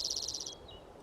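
A short, faint trilling bird call from an animated bird in the Wingspan board video game, a rapid series of high chirps lasting half a second before fading into quiet.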